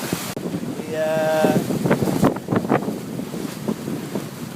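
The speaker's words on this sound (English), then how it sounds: "The wind's picked up a bit." Wind blowing over a sailboat at sea on an ocean passage, a steady rushing gust buffeting the microphone with faint creaks and tonal whistles from the rigging, close and continuous.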